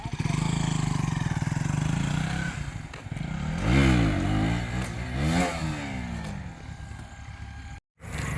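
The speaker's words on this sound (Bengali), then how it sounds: "তো ভাই এখন দেখছো হুইলি প্র্যাকটিস করছে।" A KTM Duke 200 motorcycle revving hard during wheelie practice, engine surging and falling in repeated bursts with a rising whine, moderately close, ending in a short cutout.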